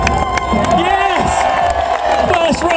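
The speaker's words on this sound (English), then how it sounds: "Give him a round of applause," Crowd cheering and clapping for a rider at an urban trials bike show in London, loud and steady throughout with someone talking over it.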